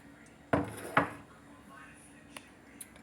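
Buffalo wings being shaken in sauce inside a lidded container give two sharp, close rattling knocks in quick succession, followed by a couple of faint taps.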